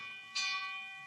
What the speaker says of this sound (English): Why, that's the fire alarm bell